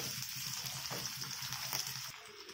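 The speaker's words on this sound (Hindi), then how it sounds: "अभी ऐड कर देंगे परवल को, सेम प्रोसेस में फ्राई कर लेंगे" Pointed gourd (parwal) pieces added to fried potatoes sizzle steadily in a hot pan, a continuous close frying hiss with faint stirring scrapes and no talking.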